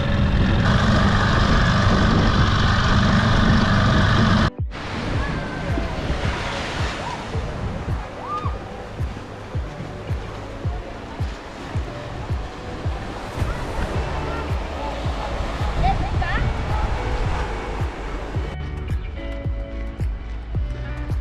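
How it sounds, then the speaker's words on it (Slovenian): Ocean waves and surf off Lanzarote, a constant heavy churn of breaking water and sloshing. The roar is steady and loud after a brief opening section, and a voice is heard talking at times over it. "ker so preveč dolgi valovi."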